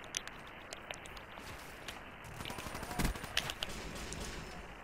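Video game gunfire, scattered faint shots and short bursts in the distance building into a louder cluster midway, with light clattering over a steady background hiss.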